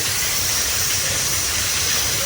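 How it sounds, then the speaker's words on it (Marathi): Loud, steady hiss of steam rushing from a pressure cooker, continuous and close, with no other sounds. "दुसरी शिट्टी झाली, दुसरी शिट्टी."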